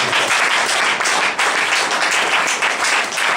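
A church congregation applauds and cheers together in steady, dense clapping that fills the room, close and loud throughout with no pause.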